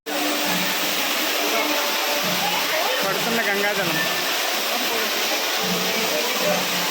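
Steady roar of falling water at the Kapila Theertham temple waterfall in Tirupati, a continuous broadband rush with no breaks, loud and close, with faint crowd murmur beneath it.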